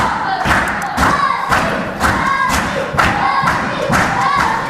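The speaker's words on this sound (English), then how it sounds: "Oh, the crowd are behind Kirsty." A wrestling crowd at a live show stamps and claps in a steady rhythmic beat, loud thuds about every half second with cheering voices mixed in.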